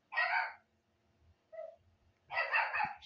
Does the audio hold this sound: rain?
no